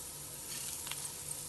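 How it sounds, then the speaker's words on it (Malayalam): Lentils for Venpongal sizzle faintly in a pan while stir-roasted over a low flame, a soft, steady hiss with a few light scraping stirs. "ഇതിന് ചെറിയ തീയിൽ കുറച്ച് സമയം ഇളക്കി വറുത്തെടുക്കാം"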